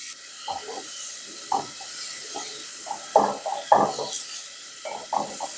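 Meat sizzles in sesame oil in a pot, a steady hiss broken by repeated scraping stirs and crackling bursts, close and fairly loud with no voices.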